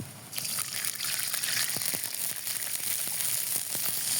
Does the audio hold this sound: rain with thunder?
no